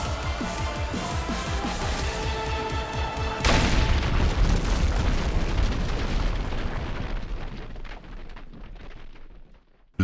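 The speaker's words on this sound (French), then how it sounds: "L'explosion a été gigantesque. Le bruit a traversé de part en part New York." A huge bomb explosion from a Spider-Man cartoon hits as one loud, deep boom at once, then rolls on as a long rumbling roar that slowly fades away over several seconds, following a dense stretch of dramatic music.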